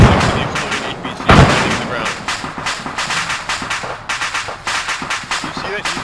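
An armoured vehicle explodes in a loud burst amid steady, rapid rifle fire in the military game ArmA 3, with shots crackling in a fast repeating rhythm throughout.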